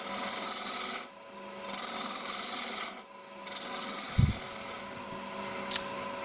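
A 3/4 inch roughing gouge cuts wood on a lathe with a steady, rasping scrape. It breaks off briefly twice and then resumes, with a low hum of machinery beneath and a couple of small knocks near the end.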